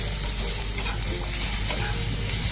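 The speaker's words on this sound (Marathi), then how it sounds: "टोमॅटो परतून झाला आहे आता लसूण आणि अद्रक टाकून घेऊया आणि हे छान असं परतून घ्यायचं आहे" Garlic, ginger and tomato sauté in a pan for an egg curry masala, with a loud, dense, continuous sizzle and constant stirring close by.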